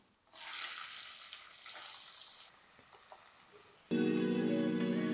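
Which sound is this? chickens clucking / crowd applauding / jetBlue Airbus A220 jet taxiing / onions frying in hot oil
onions frying in hot oil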